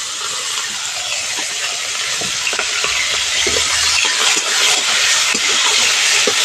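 Prawns sizzle in a shallow layer of oil in a pan, a continuous close hiss. Scattered taps and scrapes of a utensil are stirring them.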